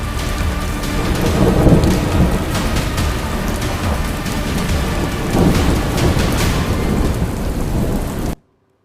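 Heavy rain pours down in a thunderstorm over flooded New York City and New Jersey, a dense, steady roar of downpour with deep thunder rumbles rolling through, loud and close, with no voices.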